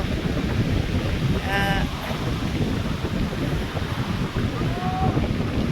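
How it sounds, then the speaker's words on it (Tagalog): Ocean surf pounds a beach, a loud continuous roar of breaking waves mixed with heavy wind buffeting the microphone, with a faint voice briefly audible beneath. "sa hampas ng alon, sa lakas ng alon"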